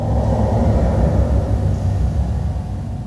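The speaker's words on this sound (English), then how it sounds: "Not many cars going by, but when it does, it makes quite the noise." A car passing on a road near a desert culvert, heard as a loud, steady low rumble filling the whole moment and easing slightly toward the end, with no talk.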